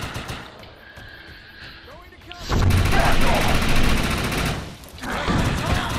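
Rapid bursts of assault rifle fire in the sci-fi shooter Defiance, loud and dense through the latter half, with game effects and a brief horse-like whinny before the shooting starts.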